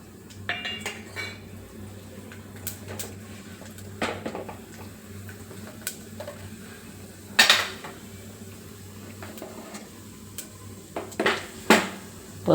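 Spices tempering in hot oil in a pan for a brinjal and potato curry, with a steady low sizzle under repeated metallic clinks and scrapes of stirring, some louder knocks near the end; no talking.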